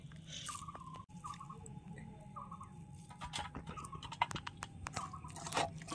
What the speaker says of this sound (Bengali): এই জলগুলো থেকে বাঁধাকপিগুলো এখন চিপে চিপে তুলে নেব